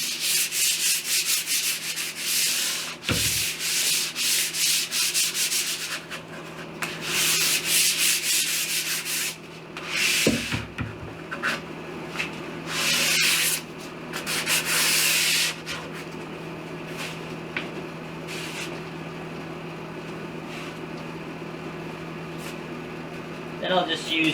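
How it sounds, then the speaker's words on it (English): Fine 220-grit sandpaper is wiped lightly across a wooden table in a workshop, making a close, continuous rasping swish in long strokes with brief gaps and thuds, while a person talks throughout. "220 sandpaper, and I'm just going to lightly wipe down the table"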